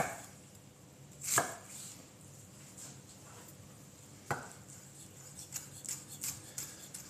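Raw onion chopped finely with a knife on a board, a few sharp isolated chops followed by a quicker run of light taps, close and fairly quiet in a calm kitchen.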